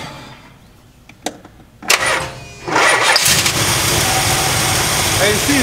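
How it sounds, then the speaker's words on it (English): A car engine cranks, catches and settles into a steady, loud idle after a few clicks and bumps, with the engine shields removed for tuning. "start the motor."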